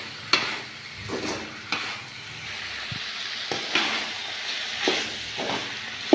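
Peanuts and legumes sautéed in a pan, a soft sizzle and hiss broken by a series of clattering stirs and scrapes at irregular intervals, fairly quiet and close, with no speech.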